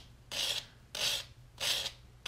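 A sanding block rubbed over a metal jewelry piece in three separate raspy strokes, each about a third of a second with short pauses between, close and clear with no talking.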